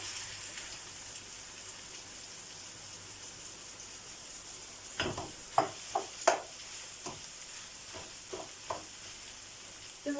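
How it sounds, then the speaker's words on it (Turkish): Squeezed boiled spinach sautés with onions in a pan, giving a soft continuous sizzle, then a cluster of sharp spatula taps and scrapes in the middle and a few more near the end. "ıspanak kavurmasını böyle yapıyoruz"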